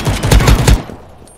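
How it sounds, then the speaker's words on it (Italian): A shotgun in the first-person shooter game Krunker fires a rapid burst of about five sharp blasts close up, then cuts off into a short fading tail. "Ecco, questo è quello col fucile a pompa."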